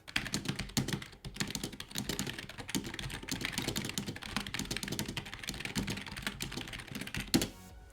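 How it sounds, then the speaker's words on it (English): Typing on an EKM 750 mechanical-feeling keyboard, a steady stream of close, crisp keystrokes continuing for several seconds with no talking. "Then moving on to the mechanical feeling keyboard, the EKM 750. This is what it sounds like."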